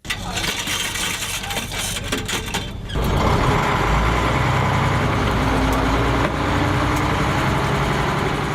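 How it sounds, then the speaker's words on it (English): A vintage double-decker bus engine rumbles and idles with a low, steady throb, growing louder after a few seconds, with some chatter and street noise around it. "On board the vintage bus hired by the locals"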